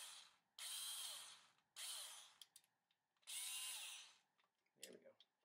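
Power drill driving into MDF, three loud sustained whirring bursts separated by short pauses with small clicks and knocks, close by.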